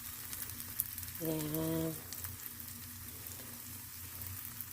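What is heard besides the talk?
pancake batter frying in a pan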